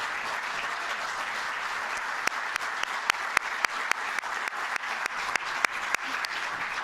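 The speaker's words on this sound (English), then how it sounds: "How about a round of applause for Linda McMahon, the administrator of the small business?" Audience applause at a National Small Business Week event, a steady wash of many hands clapping with scattered sharper individual claps, moderately loud and continuous.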